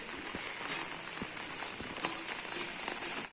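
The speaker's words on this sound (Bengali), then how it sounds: "আজকে বৃষ্টিও পড়ছে বেশ" Steady rain falls outside a rural home with trees nearby, a dense continuous hiss with occasional heavier drops and light knocks, moderately loud and alone with no talking.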